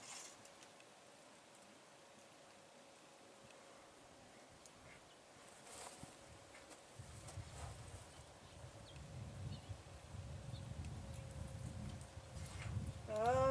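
Hooves of a young, green horse clip-clop on arena footing at a riding clinic, faint at first and then a soft, steady rhythm joining in partway, with a voice speaking over it.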